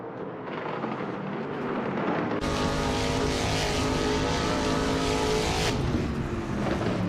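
A 2021 Ford Mustang in a racing video game, engine roaring steadily and loudly with a sudden jump in intensity partway through, sustained high revving throughout.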